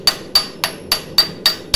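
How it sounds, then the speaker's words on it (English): Lightweight hammer forging and spreading hot metal, seven sharp metallic strikes at a steady quick rhythm, close and loud, each ringing briefly before the next blow. "I'm using a really lightweight hammer to spread this out"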